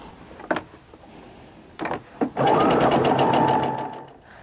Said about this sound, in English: I'll sew down the end, and then we'll get this last little bit.